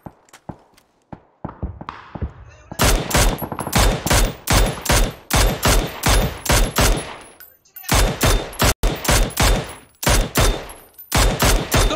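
Shooter video game gunfire: sparse single shots at first, then a long stretch of loud, rapid automatic bursts in clusters with short pauses between them, mostly clear of voices.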